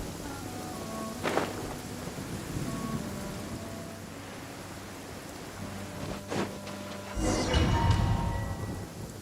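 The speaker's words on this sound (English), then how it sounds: "Rain" Steady rain falls in the video game Genshin Impact, a continuous hiss running throughout, with a couple of brief low rumbles and a louder surge near the end.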